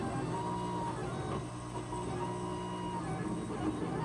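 A 3D printer prints letters onto a glass bed. Its stepper motors whine and hum steadily with shifting tones, faint and continuous, with no voices.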